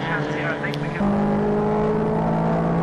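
MG Metro race car engine droning steadily through a circuit race, rising to a louder, fuller note partway through, heard under an ongoing commentator's voice.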